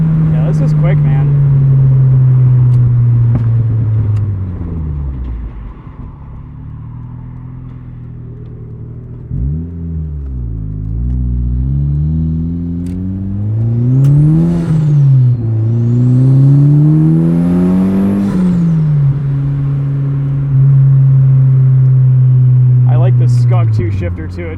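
A turbocharged 2003 NB Mazda Miata making about 240 wheel horsepower, heard from inside while driving: its engine drones steadily, drops away, then climbs and falls through several revving pulls with turbo whine. Loud and close throughout.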